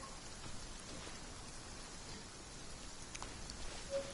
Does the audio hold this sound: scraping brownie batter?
no